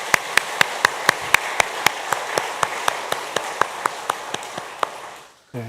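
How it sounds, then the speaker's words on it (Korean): Worshippers at Yeongcheon Jeil Church clap in unison for the teachers, crisp evenly spaced claps ringing out about four times a second, fading slightly before stopping abruptly. "격려의 박수를 한번 교사들 향해서 하겠습니다"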